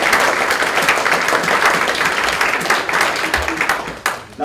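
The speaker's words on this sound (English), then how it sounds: "let's give him a round of applause" Audience applause welcoming a guest speaker at a lecture, loud, dense clapping that holds steady before tapering off and breaking up near the end.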